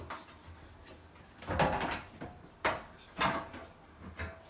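Release of the door on a Kenmore Elite dishwasher under repair for an F35 code and a leaking door boot, heard as several close, quiet clunks and knocks of metal and hinge parts shifting at irregular intervals.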